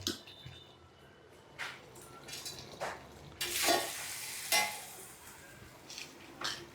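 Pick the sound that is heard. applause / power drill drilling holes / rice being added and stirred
rice being added and stirred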